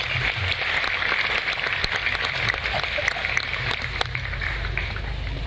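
An audience at a religious talk by Cak Nun applauds in a dense, steady wash of clapping that holds evenly throughout, with no voices over it.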